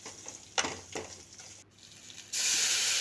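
Garlic and curry leaves sautéing in a pan with asafoetida, a soft sizzle broken by a few stirring scrapes, then a louder, brighter hiss of frying that takes over toward the end.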